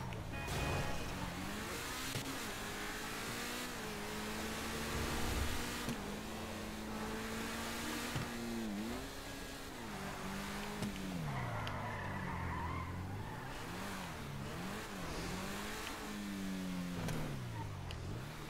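Car engine in GTA 5, an Infernus or Feltzer, revving and rising in pitch in repeated sweeps with tire squeal and skidding throughout, loud and steady, no talk.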